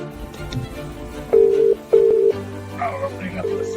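Telephone tones on a call-in show's phone lines: a few steady beeps, then a lower held tone, close and fairly loud over faint background talk.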